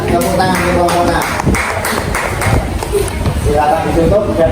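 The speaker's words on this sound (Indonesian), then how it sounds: "Mari kita beri tepuk tangan yang meriah untuk kelompok 6 ya, tepuk tangan untuk kelompok 6." Classroom group applauding a group of students after their presentation, a dense burst of clapping from many hands lasting throughout, fairly loud and close, with some voices mixed in.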